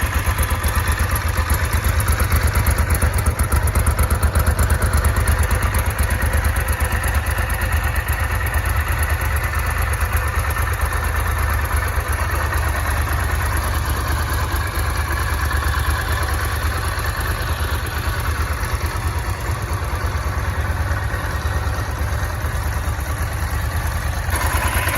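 A Ducati MH900e motorcycle, built on the 900SS, idles in a steady, continuous rumble with a dense low throb and mechanical clatter that stays loud and even throughout, with no voices.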